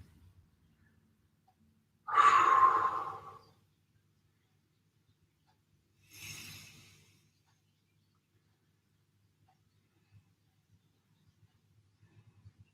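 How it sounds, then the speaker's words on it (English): Two deep breaths during a stretching recovery workout, a strong breathy exhale followed several seconds later by a softer one, close and isolated in near silence. "Big deep breaths."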